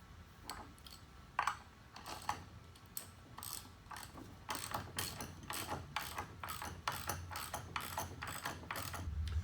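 A ratchet tightens a lag bolt into a wooden installation block through subflooring, giving a long run of quiet, close clicking strokes in uneven bursts that grow steadier and denser toward the end.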